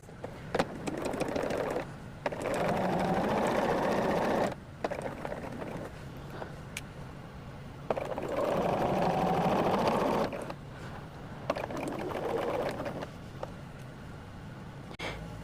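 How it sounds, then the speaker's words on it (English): A sewing machine stitches quarter-inch quilt seams in fast rattling runs of several seconds each, with short pauses between runs. It sounds close and moderately loud. "We are just going to put these under here and get these sewn at that 1/4 of an inch."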